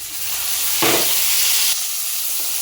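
Chopped tomatoes dropped into a pan of sautéed onions, a loud burst of sizzling flaring up over a steady frying hiss, then settling back to a constant crackle. No talking.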